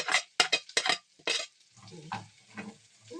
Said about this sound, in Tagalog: Tapos yung garlic. Maraming garlic, no?